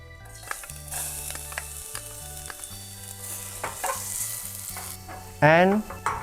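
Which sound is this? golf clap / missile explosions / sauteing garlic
sauteing garlic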